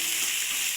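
Chopped onions fry in a hot pan, giving a steady, close sizzle with a dense crackling hiss that lasts the whole brief moment, with no voices.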